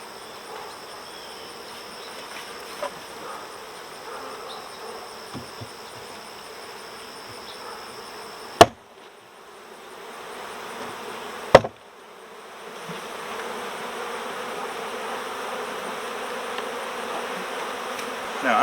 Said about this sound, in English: And we'll move these bees over.